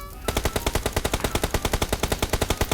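Rapid automatic gunfire from PUBG Mobile, a long unbroken burst of evenly spaced shots fired loud and close after a brief quiet start, with no voices over it.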